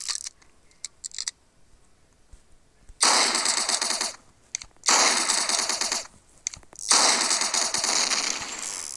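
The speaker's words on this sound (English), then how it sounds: "How fast do these SMGs even shoot?" SMGs in the video game Hypper Sandbox fire in three rapid full-auto bursts of about a second each, loud and crisp, separated by short quiet gaps with faint clicks.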